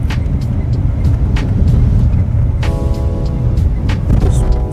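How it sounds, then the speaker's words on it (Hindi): A Renault Duster with a newly replaced clutch is driven while its gearbox is downshifted, giving a steady loud engine and road rumble from inside the cabin, with brief clicks and a whining tone during the shift. "अब एक बार डाउन शिफ्ट करके देखेंगे गियर को"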